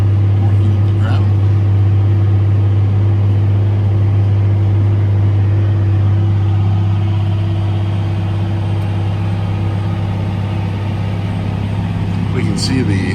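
A Case IH STX450 Steiger tractor runs steadily in a field pulling a sunflower disc at about 5.5 mph, its low diesel drone loud and continuous throughout, with cab rattles and a voice heard over it.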